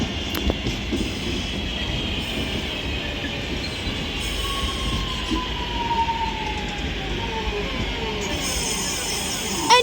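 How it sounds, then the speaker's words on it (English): A Northern class 323 electric train arrives at Manchester Oxford Road station, with loud rumbling wheels, a drawn-out brake squeal and steady rolling noise close by, no talking. "as this Northern 323 arrives into Manchester Oxford Road now"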